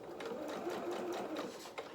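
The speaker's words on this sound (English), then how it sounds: "So I'm just going to sew down the front down here." Domestic sewing machine running a seam down the front of a small garment, a quiet, steady whirring hum with faint rhythmic ticking, close and continuous for the whole moment.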